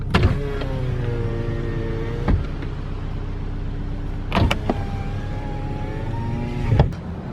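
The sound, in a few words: 2013 Scion FR-S power windows going auto down and up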